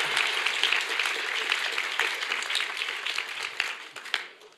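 An audience at a graduation commencement ceremony applauding, a dense crowd of hand claps that holds steady and then fades away near the end.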